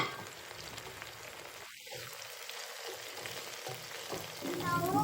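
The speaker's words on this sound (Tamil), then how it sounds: "கொத்தமல்லி தலையை வதங்கியாச்சு." Fresh coriander and mint leaves frying in a pan for chicken biryani, a soft continuous sizzle with occasional stirring scrapes, fairly quiet and close, without talk.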